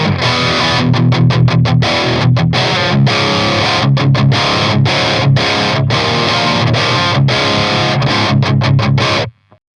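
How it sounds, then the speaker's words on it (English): Crunchy, overdriven electric guitar played through an Orange OR30 tube amp with the bright switch on, chords strummed in rhythmic bursts with short pauses, loud and close, ending abruptly. "I've dialed in a bit of a crunchy tone with the bright switch to the right."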